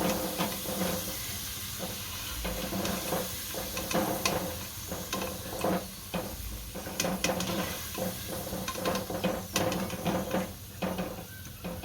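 Potato pieces fry in hot oil, a continuous loud sizzle and crackle close by, broken by repeated stirring scrapes and pan knocks throughout, with no talking.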